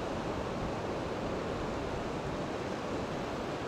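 Ocean waves break in the surf zone of a beach used for fishing, a steady, fairly soft wash of surf with a windy edge and no talking.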